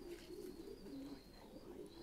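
Thai Titan pigeons cooing softly in a loft, low repeated coos close by over quiet background.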